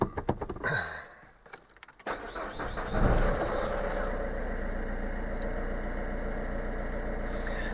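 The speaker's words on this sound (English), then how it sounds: "Okay, so we'll warm it up." A 2010 Peugeot 3008 with a cooling fan relay fault cranks and catches after a few clicks and knocks, then settles into a steady, moderately loud idle as it warms up.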